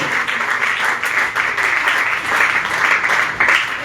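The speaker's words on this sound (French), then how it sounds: "Si tu peux acclamer encore plus fort, ça fera du bien." A church congregation applauds loudly and steadily, a dense continuous wash of many hands clapping with a faint voice or two underneath.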